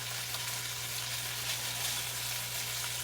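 Ribeye steak sears in a hot pan, a dense, even sizzle holding steady at close range with no voices.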